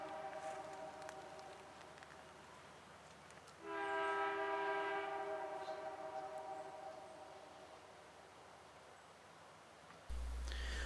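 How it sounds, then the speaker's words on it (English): Amtrak Empire Service passenger train making a station stop at Amsterdam, New York, on CSX's Mohawk line: steady rumbling rail noise, then a loud sustained multi-tone horn blast that fades gradually over several seconds. "Our first train is the Amtrak Empire Service train, making a station stop at Amsterdam, New York."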